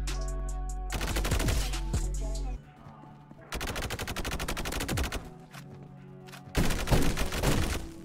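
Automatic gunfire in the Roblox shooter Energy Assault, long dense bursts of rapid game shots broken by short pauses, with a steady low hum of game sound beneath.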